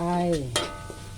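Green papaya and garlic stir-frying in a pan, a steady close sizzle with a couple of brief scrapes of stirring over about a second.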